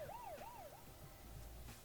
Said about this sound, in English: Must be a police car behind me.